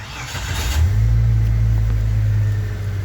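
A car engine catches via an aftermarket push-start button wired with 14-gauge wire and a low-voltage 3A button, then settles into a steady, loud idle rumble close by, with no talking.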